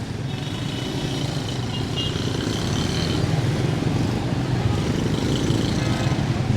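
Dense motorbike and car traffic in Karachi's Lalukhet area, viewed from atop a flyover, forms a steady, continuous roar of engines and road noise without pause.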